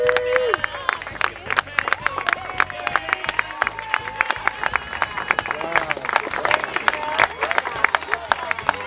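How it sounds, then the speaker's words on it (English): A school audience applauds and cheers at an after-school assembly, dense rapid clapping filling the room with crowd voices and shouts mixed in throughout, loud and close. "let's give a big round of applause for Ms. Lynn Garcia."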